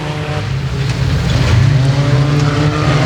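Race cars roar in a pack at Boothill Speedway, a continuous loud engine drone that swells slightly as the field gets underway, with faint tire squeal underneath.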